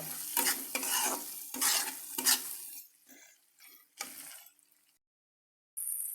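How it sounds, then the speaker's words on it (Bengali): Shrimp sizzle loudly in hot oil with taro stolons while being stirred, with several bright scraping strokes of a spatula against the pan, then the frying fades and briefly cuts off before a sharp hiss returns. "চিংড়ি মাছ দিয়ে ভালোভাবে নাড়াচাড়া করব।"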